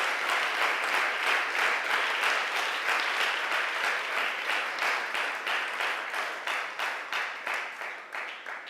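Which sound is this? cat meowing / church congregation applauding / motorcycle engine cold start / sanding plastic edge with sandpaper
church congregation applauding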